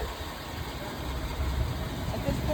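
A truck engine idles steadily in the engine compartment area during a pre-trip inspection, a continuous low rumble with mild vibration, fairly close, no talk over it.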